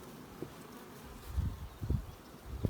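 Low, soft buzzing of honey bees drifting around close by a top-bar hive, with a few louder swells as individual insects pass near, over quiet outdoor background.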